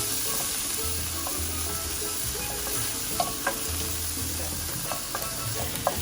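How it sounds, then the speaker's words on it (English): Peppers and tomatoes fry in a pan with a steady, close sizzle throughout, broken by a few soft clicks and knocks of stirring, with no voices. "Now I'm going to add my peppers and my tomatoes. And I'm just going to fry this up nicely."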